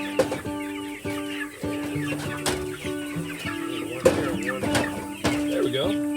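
A flock of chickens clucking near a chicken tractor being moved, overlapping busy clucks and calls at close range, fairly loud and continuous with occasional sharper squawks.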